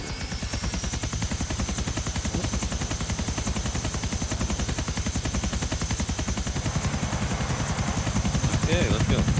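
Helicopter in GTA IV flying with a loud, fast, steady rotor chop throughout, the blade thump pulsing evenly and building slightly toward the end.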